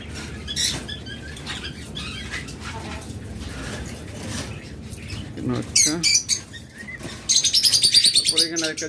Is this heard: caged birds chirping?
yes